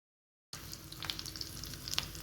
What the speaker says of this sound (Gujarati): હવે આપણે તેની અંદર મીઠા લીમડાના પાન અને 1 લીલું મરચું ઉમેરી લઈશું